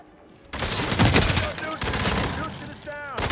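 Gunfire in the video game Hitman Freelancer, erupting suddenly into a loud, sustained barrage of rapid shots and impacts close by, with a voice speaking over part of it.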